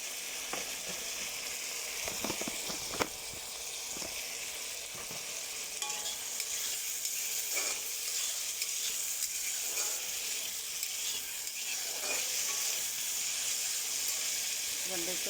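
Chili powder and spices sizzling in a hot pan while being stirred, a steady bright frying hiss with occasional scrapes and knocks of the spoon, close up and continuous, with faint voice in the background.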